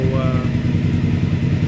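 A 2015 Triumph Speedmaster motorcycle engine with its air system removed, idling steadily close by with an even, throbbing low rumble and no revving.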